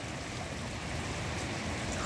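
A mountain stream in the Jety-Oguz gorge on the southern shore of Issyk-Kul rushes close by, a steady, unbroken wash of flowing water throughout.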